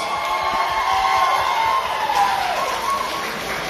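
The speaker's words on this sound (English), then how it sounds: "Everyone, give her a round of applause." Crowd applause and cheering for a judge at a Miss Teen Philippines pageant, a sustained, fairly loud wash of clapping with some voices mixed in.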